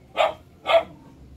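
A thin dog gives two short, sharp barks close by, evenly spaced about half a second apart, with little else around them.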